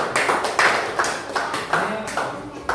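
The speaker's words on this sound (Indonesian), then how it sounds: "Yuk, tepuk tangan untuk kelompok 1" A classroom of students claps for a discussion group, with a rapid, continuous patter of hands rising in several loud pulses over a few seconds; no voices stand out.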